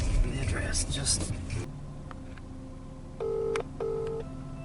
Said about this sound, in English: Is it really like Gerald not to answer his phone?